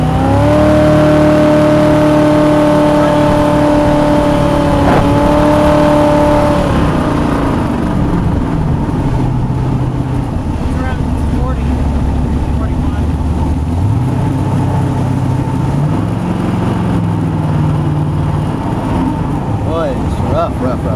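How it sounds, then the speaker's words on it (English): A jet boat motor running rough, a loud steady drone with wavering pitch and uneven surges, close up, with people talking over it. "I'd say the motor is running. Something's not right. It's got a rough sound."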